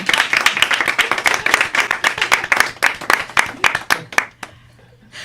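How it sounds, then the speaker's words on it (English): Studio audience clapping for a music program's guests, a dense run of sharp handclaps that thins out near the end, close and loud with no voices. "let's give a round of applause for everyone"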